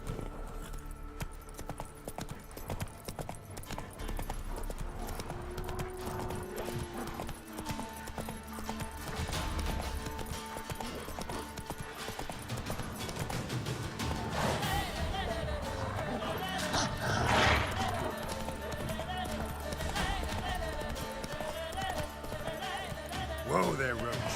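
Roach the horse trotting in The Witcher 3, a quick rhythmic clip-clop of hooves running steadily throughout with a whinny partway along, mixed with game sounds, music and a player talking over it.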